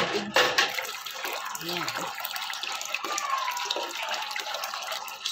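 Hot water runs from a tap for a child's bath, a steady splashing flow continuing for several seconds while someone speaks briefly over it.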